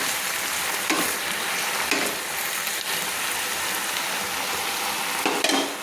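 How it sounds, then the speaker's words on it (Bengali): A tomato being stirred in a sizzling pan while cooking a vegetarian Bengali pui shak chochhori, steady frying hiss throughout with occasional scraping stirs of the spatula, close and moderately loud. "একটা টমেটো দিয়ে আমি ভালো করে কিন্তু নেড়ে নিচ্ছি।"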